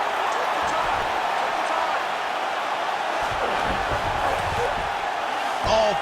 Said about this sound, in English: big pop from the crowd as they get back to their feet